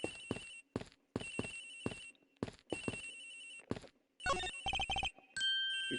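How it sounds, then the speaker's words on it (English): Cell phone ringtone playing a lullaby in Ace Attorney Investigations, a bright electronic melody in repeated short bursts separated by gaps, then a faster run of tones ending in a sustained note, clear and alone. "It sounds like the phone is up in the flight attendant's room."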